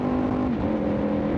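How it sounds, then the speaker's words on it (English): Loud exhaust of a road vehicle with no baffle and no catalytic converter, a close, steady droning roar whose tone shifts partway through, heard alone with no talk. "Guy's got no baffle in his exhaust. No cat either."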